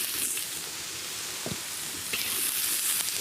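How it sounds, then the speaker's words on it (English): Onions frying in oil in a kadai, an Indian wok, give a steady close sizzle and hiss with a few soft stirring knocks, alone without talk. "into the kadai, which is Indian for wok, we'll put some oil and the onions"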